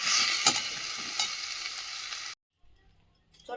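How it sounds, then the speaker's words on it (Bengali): Potato filling is stirred in a kadai, giving a close, crackling sizzle with scraping strokes that cuts off abruptly partway through, leaving near silence before a faint rustle returns. "আলুটা একটু ভালো করে মিশিয়ে নেড়ে নিলাম"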